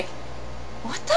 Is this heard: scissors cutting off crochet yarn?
no